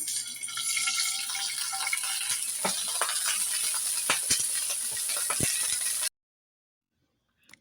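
Water splashed into a pan of hot oil tempered with mustard seeds and chillies sets off a loud, continuous hissing sizzle with crackles for about six seconds before it cuts to near silence.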